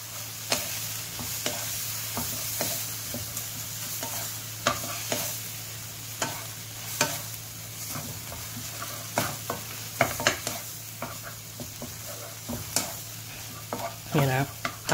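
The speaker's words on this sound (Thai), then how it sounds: "ผัดให้แค่ใบกะเพราสลบก็พอครับ" Shrimp and holy basil leaves stir-fry in a hot pan or wok under a steady sizzle, with repeated sharp scrapes and clatters of the spatula at an irregular rhythm, close and clear, with no talking.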